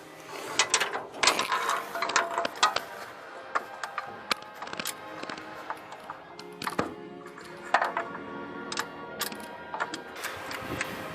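A hand ratchet clicks in uneven bursts as a car engine is turned over to bring cylinder number 1 to top dead center, sharp metallic pawl ticks close by with short pauses between strokes.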